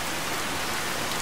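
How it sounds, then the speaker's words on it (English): Heavy rain from the True Storms weather mod in the Fallout 4 video game pours down as a dense, steady hiss that fills the whole moment, with no voices over it. "Here we have the rain weather, and as you can see, it is darker."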